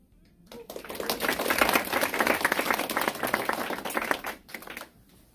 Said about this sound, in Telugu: సో ఇలా క్లాప్స్ ఏంటంటే ఎవ్రీ రౌండ్ అయిపోయినప్పుడు కొడుతుంటారు అనమాట.